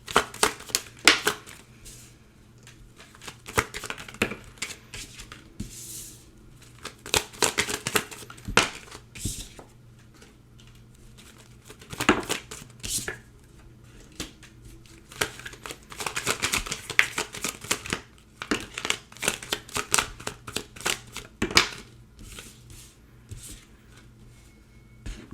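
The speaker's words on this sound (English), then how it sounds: "let me pull you some oracle cards and let's see what we got" A deck of oracle cards is shuffled up close in repeated bursts of crisp riffling and slapping, separated by short pauses, with faint talk in the background.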